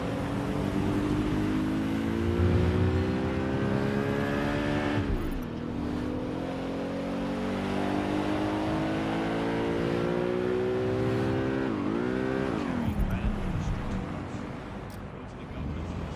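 Car engine in the video game Watch Dogs Legion, a steady harmonic drone rising and falling with revs, with two sharp downward sweeps as gears shift or the car slows, loud and continuous throughout.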